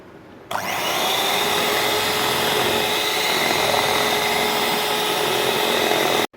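An electric mixer beats eggs for a cranberry cake batter, running with a loud, steady high whine for about six seconds and then cutting off abruptly.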